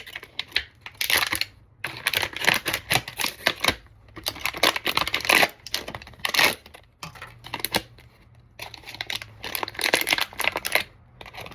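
Scissors or a blade cut through a plastic bottle top, giving close, dry crackling and snipping bursts in irregular clusters with short pauses, without talk.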